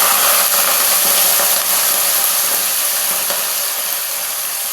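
Vegetables dropped into hot oil give a loud, steady hiss of sizzling that fills the clip and eases only slightly toward the end, with no talking.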